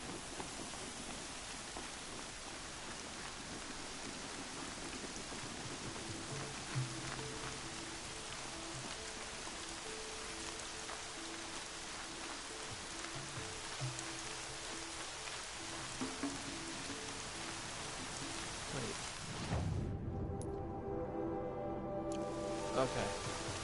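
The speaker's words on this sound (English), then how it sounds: "Oh, of course it's gonna start raining." Steady rain pattering on surfaces in the Horizon Zero Dawn video game, a soft, continuous hiss running the whole time at low volume, with a brief shift in texture near the end.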